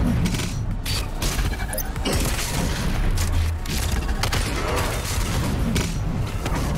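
Super shotgun firing during a boss encounter in DOOM Eternal's The Ancient Gods Part One, heavy booming blasts buried in a constant, loud wall of combat noise and music.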